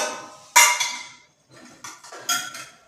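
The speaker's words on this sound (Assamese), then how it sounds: "কুকাৰটো লৈছোঁ কুকাৰটো মই ব্যৱহাৰ কৰিছোঁ" A pressure cooker is handled in a home kitchen, giving a few sharp metallic clanks and scrapes separated by short pauses, close and fairly loud.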